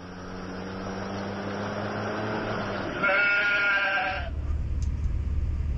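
Goat bleating in an Indian action comedy film scene, a long, loud, sustained wavering bleat followed by a second, higher bleat, then a low rumbling background as the cry stops abruptly.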